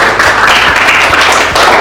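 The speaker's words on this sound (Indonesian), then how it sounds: "beri tepuk tangan untuk kita semua" A classroom of students claps together in a dense, steady burst of applause lasting a couple of seconds, loud and close, with a few heavier thumps mixed in.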